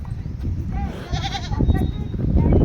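A goat bleats on a village farm, its wavering calls fairly close amid rustling and other farmyard noise.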